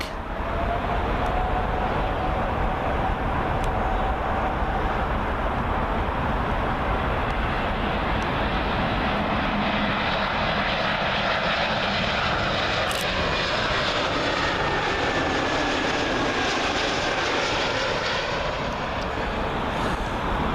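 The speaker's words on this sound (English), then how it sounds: "Lufthansa A320neo, and this one has arrived from Munich" A Lufthansa Airbus A320neo from Munich roars in on its landing approach at Heathrow, a loud, steady jet-engine rumble with a whining tone that holds throughout without any voices.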